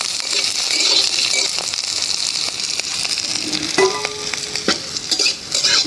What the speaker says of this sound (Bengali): ভাজা হয়ে গেল রসুন মরিচ